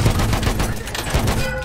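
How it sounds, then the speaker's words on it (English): Sustained machine-gun fire from an enemy position in the World War I shooter Battlefield 1, played on the Amiens map. Dense, rapid, loud bursts continue without a break for the whole stretch. "There's an enemy machine gun!"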